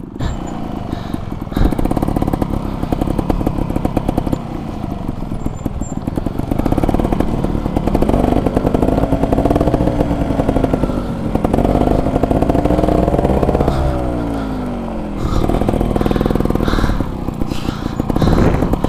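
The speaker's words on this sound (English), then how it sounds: "This is a hard bike to ride." A trials motorcycle is ridden nearby, its engine puttering and clattering, then revving in repeated bursts with rising and falling pitch and brief drops between efforts.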